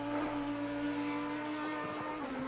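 An Audi race car's V10 engine screams at high revs as heard from outside in a racing video game at Oulton Park, a steady, sustained whine that holds then begins to drop away, no voices present.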